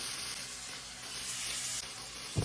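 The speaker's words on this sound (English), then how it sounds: "So now I'm gonna add a little bit of butter and sort of just give that a swirl." Butter sizzling and hissing steadily as it is swirled around a hot pan before swordfish steaks are cooked, a continuous close frying crackle with no talk.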